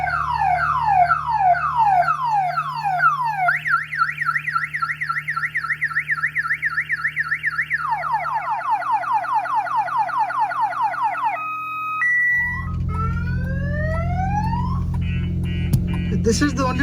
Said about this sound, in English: I need to stop the siren.